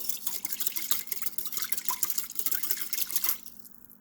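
A whisk stirs a mixture of oil and liquid detangler in a bowl, giving a quick, steady run of wet clicking and sloshing that stops abruptly near the end.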